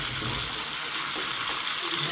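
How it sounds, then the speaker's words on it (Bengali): Aubergine pieces fry in hot oil over high heat, producing a loud, continuous hissing sizzle without pause. "দেখুন বেগুন ভাজা হয়ে গেছে এবার বেগুনগুলোকে তেলটাকে ছেঁকে আমি তুলে নেব"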